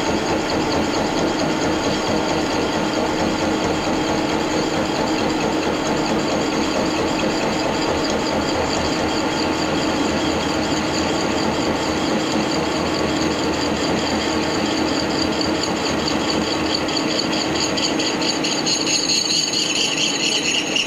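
A Brown & Sharpe sliding milling head cutting in horizontal mode on an arbor-mounted cutter, giving a loud, steady mechanical whir and grinding hum that runs unbroken for the whole stretch with no talk.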